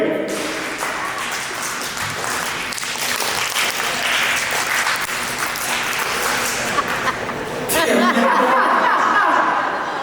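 Audience at an Indigenous food sovereignty panel retrying a clapping wave on a count of three, sustained applause mixed with scattered chuckles and chatter, swelling louder toward the end.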